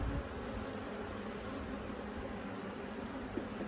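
Bees from an open hive give a steady, dense buzzing hum that fills the whole clip at an even, moderate level, with no talking over it.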